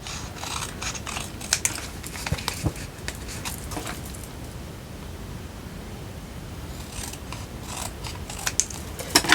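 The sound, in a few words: scissors trimming paper bee tags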